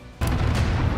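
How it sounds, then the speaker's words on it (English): A grenade blast in a dramatized room fight hits suddenly after a quiet moment, a loud close boom followed by a dense, sustained rumble. "Lisa pulls out a grenade and hurls it toward them. The explosion shakes the room"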